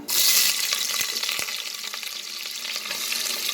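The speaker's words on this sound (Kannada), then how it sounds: "ಈಗ ನೆಕ್ಸ್ಟ್ ಆನಿಯನ್ ಆ್ಯಡ್ ಮಾಡ್ತಾಯಿದ್ದೀನಿ ನಾನು" Thick chopped onion hits hot oil in a pan with a bright burst of sizzling, then frying goes on steadily, with faint clinks of stirring.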